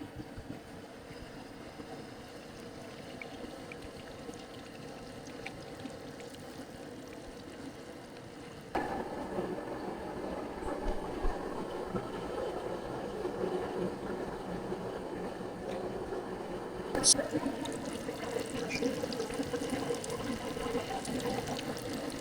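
Crabmeat-stuffed shrimp go into hot frying grease a few at a time. A low background hum gives way partway through to a sudden, louder, steady sizzling hiss that continues to the end.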